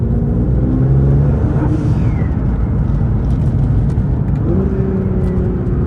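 A Nissan R35 GT-R facelift accelerating from inside the cabin, with a loud, steady engine drone that rises in pitch and shifts midway, a continuous rumble with no talk over it.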